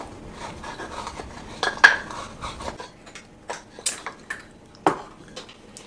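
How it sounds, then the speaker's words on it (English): Cinnamon being ground by hand, giving irregular scraping and knocking strokes with sharp clinks that come and go, close and fairly clear, with no one talking. "Now we're going to grind this up."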